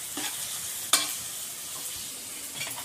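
Finely chopped onion browns in hot oil for dal tadka, a faint steady sizzle broken by a sharp spoon clink against the pan near the one-second mark and a few soft stirring scrapes.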